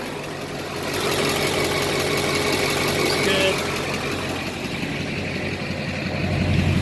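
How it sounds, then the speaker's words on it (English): A Duramax LBZ diesel pickup idles steadily nearby with an even, low rumble and a slight knocking texture, while someone briefly speaks over it. "Truck sounds good."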